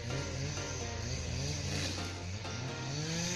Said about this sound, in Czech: tam vzadu za mnou jezdí traktor